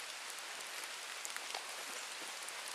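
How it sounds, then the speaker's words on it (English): Light rain falls steadily outdoors, a soft even hiss with scattered faint droplet ticks and no voices. "it's only raining a little bit right now"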